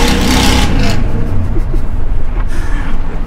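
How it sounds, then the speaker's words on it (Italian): A six-wheeled vehicle with a sideways-angled exhaust rumbles loudly and close, a dense continuous engine roar with a slight swell of revving. "Essendoci anche lo scarico io inclinato, comunque messo lateralmente, rimbomba tutto nelle case."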